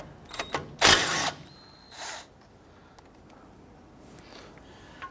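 A few short ratcheting and wrenching bursts as 14mm brake caliper bolts are loosened on a Nissan Frontier, close and fairly quiet, with one louder rasping burst near the start.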